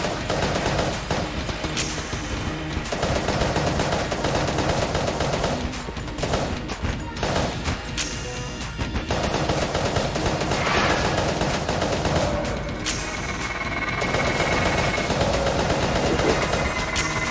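Video game gunfire from Enter the Gungeon: dense, rapid bursts of shots and impacts crackle almost nonstop, loud and busy, with brief lulls between volleys and no talking.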